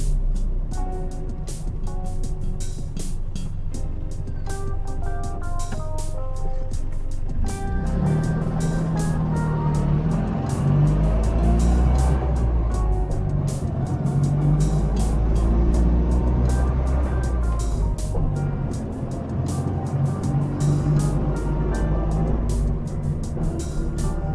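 A Polski Fiat 126p small car's engine drones loudly and steadily for the whole stretch on a highway, with rough throbbing and shifts in pitch as it revs and drives along.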